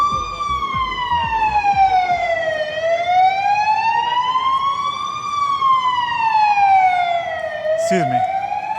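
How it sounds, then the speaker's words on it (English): An emergency vehicle siren wails on a city street, loud and close, sweeping slowly up and down in long steady cycles, with traffic rumbling underneath and a brief extra chirp near the end. "I'm sorry about the siren."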